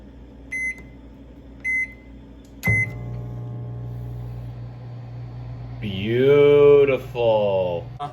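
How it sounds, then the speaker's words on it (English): Microwave oven heating a croissant sandwich: a few short beeps, a door thunk, then a steady low hum from the running oven, later overlaid by a wavering voice or hum near the end. "you can pop this baby in your microwave"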